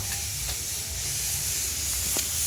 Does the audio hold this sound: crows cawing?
no